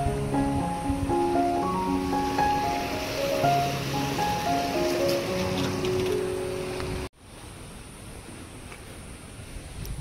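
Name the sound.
river water flowing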